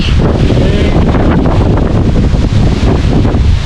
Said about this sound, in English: that wind's getting strong